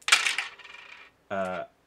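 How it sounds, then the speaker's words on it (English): Dice are thrown into a magnetic token box used as a dice tray, giving a bright rattling clatter that tumbles and settles over about a second, followed after a short pause by a brief ringing rattle. "You can, throw your dice in."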